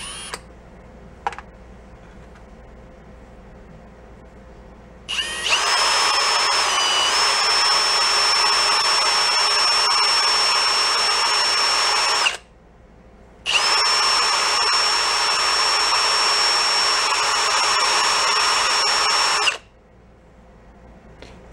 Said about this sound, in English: we go with a little valve lapping compound.